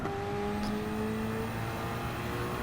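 A Toyota GT-One race car engine in Gran Turismo 7, droning at a steady high pitch under throttle with sustained tonal whine and road noise, continuous and fairly loud, no voices.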